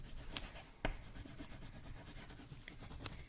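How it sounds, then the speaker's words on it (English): Permanent marker drawing on paper, a quiet close scratchy squeaking of the felt tip in short strokes, faint and without any voices. "You can even do drawings with a permanent marker"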